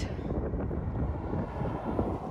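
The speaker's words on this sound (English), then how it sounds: "That's a headwind." Wind buffets the microphone as a steady low rumble while heading into a headwind on a desert road near Borrego Springs, continuous and fairly loud with no talk.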